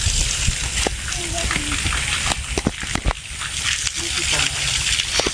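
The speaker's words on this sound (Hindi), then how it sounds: "ईंटों को गिल्ला करना रहता है पानी से।" Water splashing and sloshing onto bricks to wet them at a house construction site in India, arriving in irregular bursts at close range, mixed with people talking.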